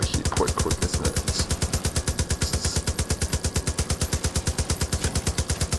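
A mounted .50 cal machine gun in Far Cry 5 fires a long, rapid, evenly spaced burst of heavy booming shots that carries on nonstop for about six seconds.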